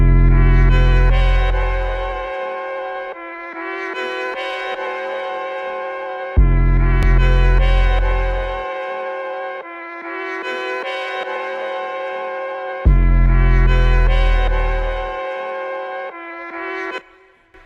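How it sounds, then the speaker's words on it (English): An 808 bass clipped by a Decap Knock plugin strikes three times at a slow, even pace, each long booming note decaying under a gritty rattle and static-like buzz with ringing upper overtones. "it adds like a rattle to it almost. Like it adds some static on the end of it"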